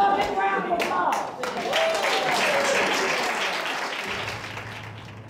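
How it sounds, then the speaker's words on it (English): A crowd claps in a round of applause, with a voice speaking over it at the start, then the steady clapping continues and slowly thins out. "Give a big round of applause."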